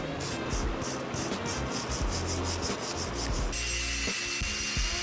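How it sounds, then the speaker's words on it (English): A wire brush scrubs flux off brazed aluminium in fast, rhythmic back-and-forth strokes, a close, gritty scraping that runs steadily and then shifts to a rougher, lower rasp. "I'm going to clean all that off now with a wire brush"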